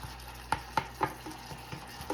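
A spoon stirs and breaks up a soup of stuffed peppers cooking down in a small pot, giving a steady rhythm of soft scraping knocks over a quiet sizzle, with about eight strokes in quick succession.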